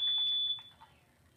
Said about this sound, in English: Why does the fire alarm have to keep on going on?